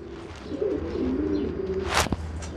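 A pigeon coos up close in a soft, throaty rolling call, alone, with a sharp rustling flutter near the end.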